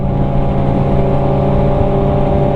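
A Kawasaki Z1000 motorcycle cruises along a road with a loud, steady engine drone at constant speed. Wind rush blends in and no voices are heard.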